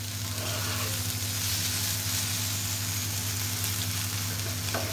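Okra frying in a pan gives a steady, close, dense sizzle over a low constant hum, with no talk.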